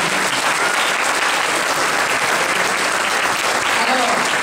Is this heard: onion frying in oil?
no